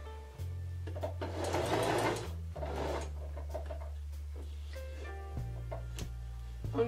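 A sewing machine stitches a seat cushion cover for a motorhome or caravan, with a low motor hum and short bursts of fast needle rattle separated by pauses and the handling of fabric.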